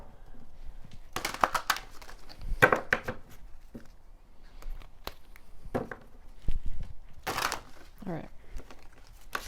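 Fortune-reading cards are shuffled in several quick riffling bursts, crisp and close, with a brief spoken remark in between.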